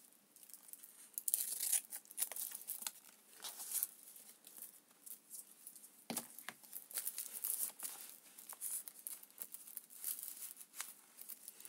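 Paper is snipped and rustled with scissors close by for junk journaling, a faint, irregular series of crisp cuts and crinkles with a sharper tear midway.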